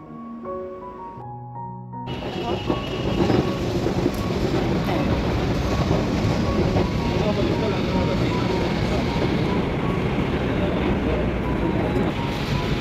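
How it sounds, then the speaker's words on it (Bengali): Ambience at a Bangalore metro station as a train arrives: after a quiet opening with faint tones, a broad, loud rumble and rushing roar swells in and holds steady to the end. "আমরা এখন মেট্রো স্টেশনে, ব্যাঙ্গালোর মেট্রো স্টেশন, এখান থেকে মেট্রো ধরবো"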